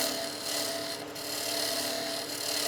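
Skew chisel planing cuts across wood make a continuous close-up hissing, rasping shave, briefly dipping twice as the blade lifts between passes, with no speech.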